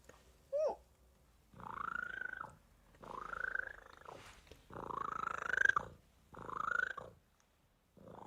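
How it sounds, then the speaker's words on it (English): A cat purrs close by in four or five long rumbling bursts, each lasting about a second, with short pauses between them and one brief higher chirp at the start. "Well, he's just a big purr,"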